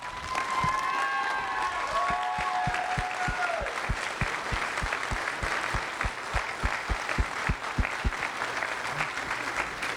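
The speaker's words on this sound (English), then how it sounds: "give a big round of applause to our outgoing booster club" A crowd claps steadily in a room at an ROTC awards ceremony, the applause sustained and even for the whole stretch, with a few brief voices and a whistle early on.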